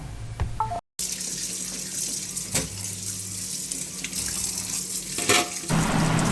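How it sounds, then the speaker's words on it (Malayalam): Ripe mangoes for a traditional Kerala-style dish are rinsed under a running tap, giving a steady, close, continuous splash of water into a sink with a few clattering knocks and a brief break near the start. "ആദ്യം നമുക്ക് ഈ മാങ്ങയെല്ലാം ഒന്ന് കഴുകി വൃത്തിയാക്കി എടുക്കാം"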